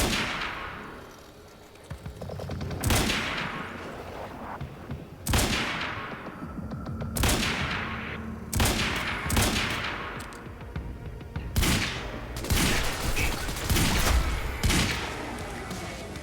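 Gunfire in the video game Quantum Break, with repeated loud bursts and sharp shots firing in clusters, each trailing off into echo, over a steady combat background.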